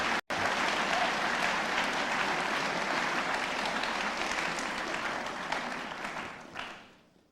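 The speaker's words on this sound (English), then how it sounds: "please join me in giving him a round of applause" An audience at a debate on God's existence applauds the event organizer, a dense, sustained burst of clapping from a full room that swells quickly and tapers off near the end.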